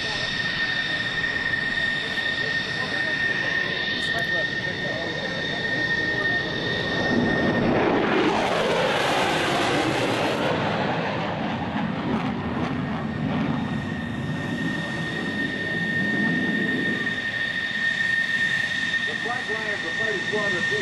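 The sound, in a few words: F-14 Tomcat jets flying at airshow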